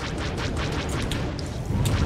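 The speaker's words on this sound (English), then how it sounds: "The ship is under fire." Rumbling explosions and blasts hit a starship under fire during a starfighter dogfight in the video game Star Wars: The Old Republic, a dense continuous roar with a stronger low burst near the end.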